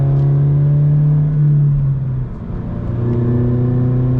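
A Subaru GR86 fitted with an MBRP exhaust drones steadily, heard from inside the car, its low engine note dipping briefly and then settling back into a smooth, loud hum.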